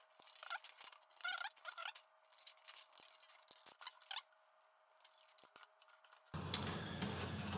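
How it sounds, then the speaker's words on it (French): Scissors snip through thin brass sheet in a run of short, close cuts spaced apart. Near the end a louder broadband noise takes over. "essayez de faire ça en un minimum de coups de ciseaux"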